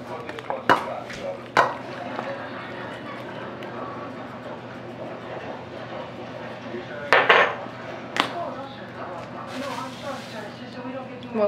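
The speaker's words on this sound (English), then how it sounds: "So now I'm just gonna grab a serving bowl." Utensils and dishes clink while creamy cauliflower Alfredo with cashews is served into a serving bowl, a few sharp knocks among soft scraping and handling, with a steady background hum.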